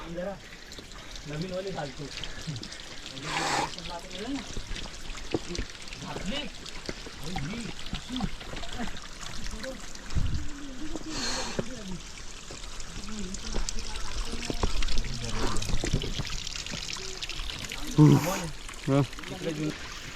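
Steady trickling, splashing water runs down stone steps at Jivdhan Fort throughout while a person talks over it, with wind and footsteps faintly mixed in.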